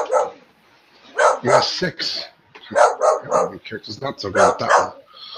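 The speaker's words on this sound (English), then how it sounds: "Sorry about the dogs." Dogs bark in the background during an at-home tabletop role-playing game session, their intermittent barks partly buried under steady conversation among the players.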